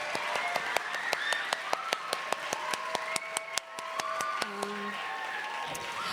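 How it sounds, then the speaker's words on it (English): Audience applause at a National Book Awards teen reading event, honoring the host and five authors; sustained, moderately distant clapping with sharp individual claps standing out over a steady crowd wash. "give the hugest round of applause for Casey McQuiston, our host, our 5 wonderful authors up here"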